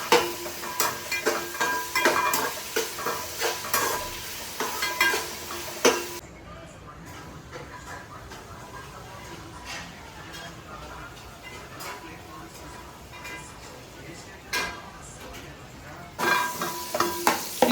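Ingredients frying in a pan for biryani, a close crackling sizzle with scraping stir strokes and utensil clinks, dropping to a softer steady fry in the middle while someone talks over it.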